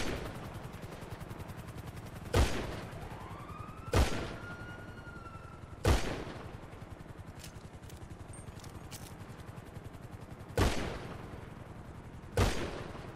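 Repeated gunfire in a GTA roleplay game, with six sharp shots spaced a second or more apart over a steady background hum.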